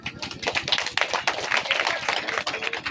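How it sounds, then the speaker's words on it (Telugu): Clapping from guests at a church wedding ceremony, a dense run of sharp hand claps lasting throughout, fairly close and steady, with faint voices underneath. "కానీ చప్పట్లేదు కొట్టండి"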